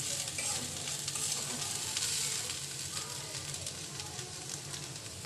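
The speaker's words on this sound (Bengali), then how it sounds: "চিংড়ি দিয়ে মূলা শাক ভাজি হয়ে গেছে, নামিয়ে নিয়েছি।" Radish greens and shrimp stir-fry in a pan with a steady, close sizzle and crackle. Scraping stirs of the spatula run throughout, with no pauses.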